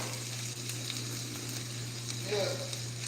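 Peppers and onions sizzle in a pan for shrimp and grits, a soft, steady frying hiss over a low hum, with a brief stir near the end.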